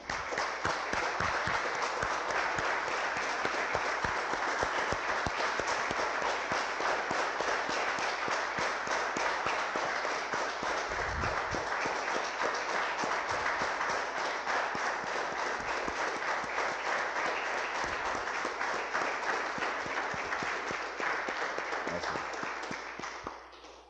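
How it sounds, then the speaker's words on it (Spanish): Applause from a church congregation fills the whole stretch: a dense, steady wash of many hands clapping, loud and unbroken, with no talk over it, tapering slightly at the very end. "Damos un aplauso, hermanos, al Señor."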